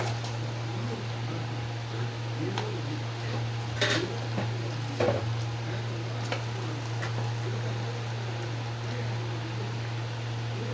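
Pieces of mutton leg go into a pan of frying masala for a traditional mutton leg curry, bringing steady close sizzling with scattered clinks and scrapes of utensils against metal over a constant low hum.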